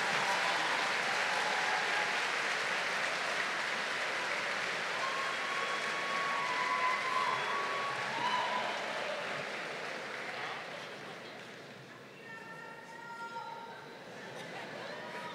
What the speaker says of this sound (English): give them a round of applause for being with you on this journey.